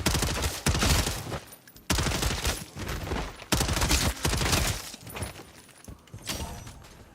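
Hip-fire gunshots in the video game Call of Duty Modern Warfare Zombies roar in loud, close bursts of rapid automatic fire, four or five sustained volleys separated by brief gaps.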